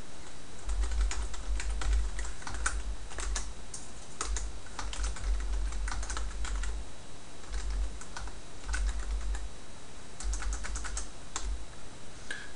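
Close, quiet typing of VBA code on a computer keyboard, bursts of quick key clicks separated by short pauses, over a soft low hum.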